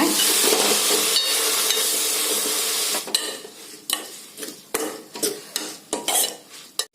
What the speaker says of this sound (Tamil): இந்த கீரையை சேர்த்துட்டு என்ன பண்ணுறீங்க அப்படின்னா நல்லா இப்படி கரண்டையில் பரட்டி பரட்டி விடுங்க